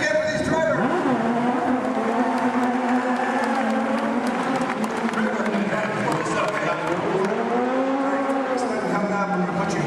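Cars roar through a live studio stunt show at a Disney theme park, engines revving and tires squealing continuously and loud, with a crowd and an announcer's voice carrying over the action.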